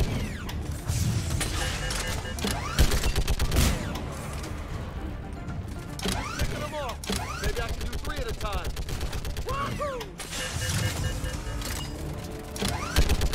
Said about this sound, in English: we're going to operate a turret section